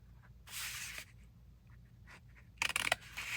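Scissors cut through a cardboard bagel box in a few separate bursts of rough, scratchy snipping, close and fairly quiet with pauses between cuts.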